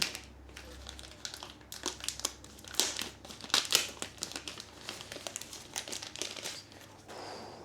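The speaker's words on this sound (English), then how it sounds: "So I'm gonna put some of the packaging back in." Packaging for a DJI Neo 2 drone crinkles and crackles in close, irregular bursts as it is pushed back into the box, fairly quiet with no talking.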